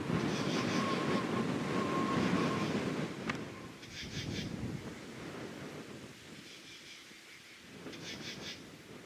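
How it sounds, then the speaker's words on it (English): Strong wind buffets the microphone on a hilltop at night during a full-moon hike, a steady roaring rumble with gusts that rise and fade, and no voices. "Ooh, it's so windy, I can't hardly hold it still."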